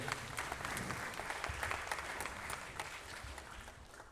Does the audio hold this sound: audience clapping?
yes